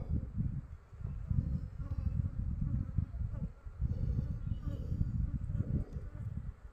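Honey bees swarming at a hive, a dense, continuous low buzzing that swells and fades in waves at close range, with no clear speech over it.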